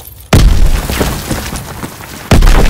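A loud, close grenade blast in a World War II shooter match on the Aachen map, one sharp boom rolling into a rumbling tail, then a second heavy explosion hitting right at the end.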